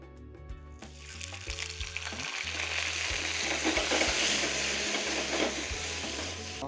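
A chicken roll fries in hot oil in a pan, with a soft, steady sizzle that builds and holds, broken by faint scraping stirs and a low background hum.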